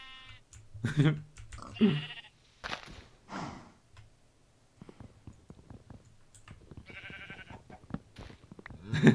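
Sheep in the Minecraft video game bleat in several short, wavering calls scattered through the clip, mixed with someone talking, some quiet footstep-like clicks and a loud bleat at the end.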